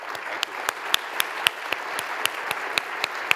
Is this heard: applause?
yes